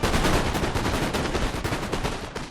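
Musket volley fire in Total War Napoleon: a dense, continuous crackle of many overlapping shots, loud and sustained throughout with no gaps.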